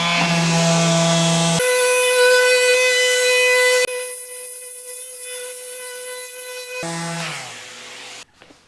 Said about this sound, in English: using the 320 sandpaper is what I start with all my sanding